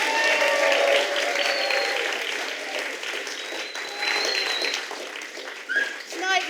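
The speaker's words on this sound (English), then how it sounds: "can we please have a roaring round of applause for the NHS?" Loud applause from a large audience at the Pride of the UK Awards, a televised ceremony, sustained for several seconds, tapering slightly, then swelling briefly again near the end, with cheering mixed in.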